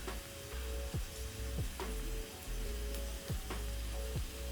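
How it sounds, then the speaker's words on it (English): Potato wedges shallow-fry in a pan with a soft, steady sizzle and crackle, broken by several faint clinks or scrapes spaced a second or so apart; quiet and close, with no talking. "I just choose to do shallow frying because I'm not making a lot of potato wedges"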